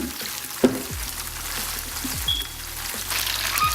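Tofu fries with a steady sizzle crackling in a pan, with a sharp clank of a utensil near the start and soft background music underneath.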